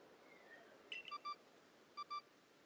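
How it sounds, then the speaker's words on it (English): A glowing, phone-like object in Pokemon Legends Arceus gives short electronic beeps in two quick pairs, faint over a soft game ambience. "There's a glowing, beeping object over there."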